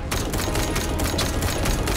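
Rapid automatic gunfire from the shooter game The First Descendant rattles on without a break for the full two seconds, loud and dense, with no other sound coming through.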